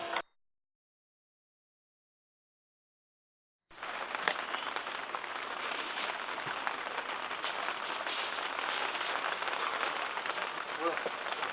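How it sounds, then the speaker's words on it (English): Steady rain begins falling on a dry garden, a continuous hiss of drops that swells in suddenly after a brief silence and holds evenly to the end. "There's the rain coming now, and it's welcome"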